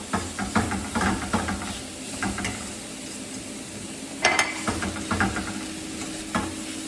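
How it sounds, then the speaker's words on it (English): Vegetables such as carrots being stirred and warmed in a pan at home, with a steady soft sizzle and hiss and several sharper scraping clinks of the utensil against the pan. "So I'm literally just going to stir it up and warm it all up"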